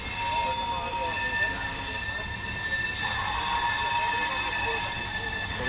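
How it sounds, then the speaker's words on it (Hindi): A locomotive-hauled passenger express train rumbling along with high, sustained metallic wheel squeals ringing over the steady roar as it brakes approaching Jaipur Junction. "अभी ब्रेक अप्लाई कर दिए भाई हमारे लोकोमोटिव ने।"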